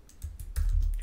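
Clicks from a computer mouse and keyboard while someone creates a new Dropbox folder. The clicks are sparse and fairly close, with a low thump under them.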